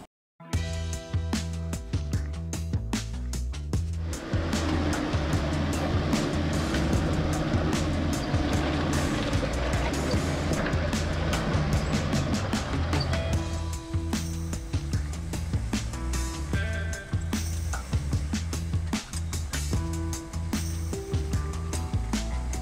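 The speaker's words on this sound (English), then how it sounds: "As the truck clawed her way up the mountain" A supercharged Toyota Land Cruiser 80 series truck climbing a rough mountain trail in the Bighorn Mountains, its engine droning loud and continuous under rattles and knocks from the rocky ground.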